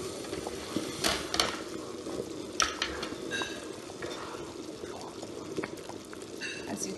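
Iba soup with bitter leaf simmers in a pot, a steady low bubbling and gentle boiling texture with occasional clicks of pot or spoon, heard alone at moderate distance.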